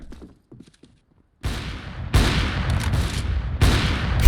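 Video game gunfire is aimed at the player: after a quiet opening with faint scattered sounds, loud dense volleys of shots erupt and continue steadily to the end, with no speech over them.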